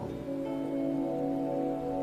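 Rain falling as a steady, even patter that stays at a constant moderate level for the whole stretch, with no voices over it.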